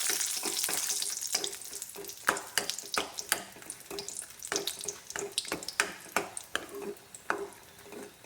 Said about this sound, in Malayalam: വെളിച്ചെണ്ണ ഒഴിച്ച് കൊടുത്തിട്ടുണ്ട്. എന്നിട്ട് അതിലേക്ക് ഞാൻ ആദ്യം ഈ ഉണക്കമുളക് എന്നിട്ട് ഇട്ട് കൊടുക്കുന്നു